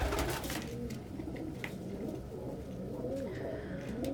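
A pet pigeon cooing close by, soft repeated low coos over a steady indoor background hum.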